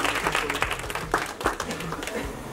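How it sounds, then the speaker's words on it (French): Applause from a studio audience during a French cooking lesson, with claps crackling unevenly over a steady hubbub alongside background talk. "On peut l'applaudir."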